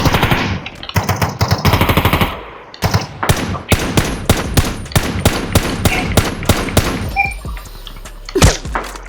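Rapid automatic gunfire from Ring of Elysium, loud close bursts of repeated shots with a steady rhythm, some single cracks and thuds, continuing throughout with no talk.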